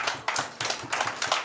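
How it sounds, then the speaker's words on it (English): An audience at a PLHIV leadership summit applauds, a short burst of hand claps swelling and fading in several quick waves, close and fairly crisp with no voices over it. "Please, let us give them a round of applause"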